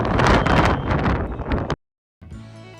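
Wind buffets an outdoor microphone at a historic steppe site in Ulytau, a loud rough rush for nearly two seconds that cuts to silence, then a fainter steadier hum returns.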